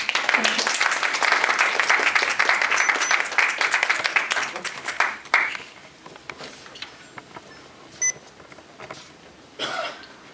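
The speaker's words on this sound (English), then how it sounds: "Please welcome with a big applause, Khaskhas.com, Mr. Basu Shrestha." Audience at a poetry festival applauds steadily for about five seconds to welcome a speaker, then the clapping stops abruptly, leaving quiet room noise with a cough and a few scattered sounds.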